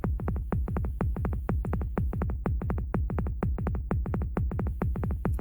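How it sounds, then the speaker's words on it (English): Two interlocking pulse trains, one beating half again as fast as the other in a steady 3:2 polyrhythm, sound as sharp clicks that repeat evenly and loudly for several seconds, with no voices. "If we start again with the same pulsation and play alongside it a second beat"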